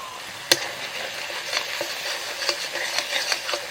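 A ground paste of ginger, green chilli, white mustard and poppy seed frying in oil in a pan: a sharp utensil knock, then soft sizzling with repeated light stirring scrapes, close by.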